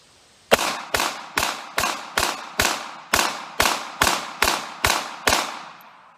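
Twelve sharp shots from a Ruger LCP Max .380 ACP pistol fired outdoors in an even rapid rhythm, each crack loud and close, with a short decaying echo after each one.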